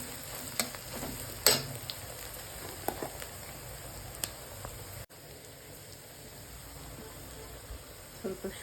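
Onions and curry leaves fry in hot oil for prawn masala, a soft continuous sizzle broken by occasional stirring clinks and scrapes, with a few louder knocks near the start.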